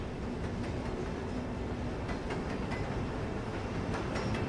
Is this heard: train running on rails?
yes